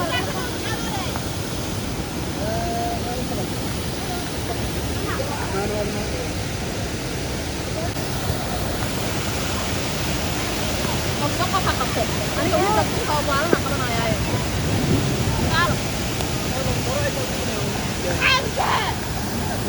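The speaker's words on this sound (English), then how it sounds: "The waterfall is now flowing strongly because of the rain." Steady broadband rush of a rain-swollen waterfall in Karura Forest, Kenya, loud and continuous, with voices talking faintly underneath and some wind buffeting.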